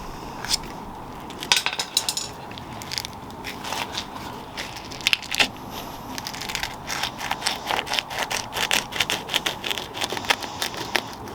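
A screwdriver working under a glued hand grip on a 2021 Harley-Davidson Sport Glide motorcycle handlebar, close crunching and crackling of rubber tearing loose, coming in quickening bursts of scraping, with no talk.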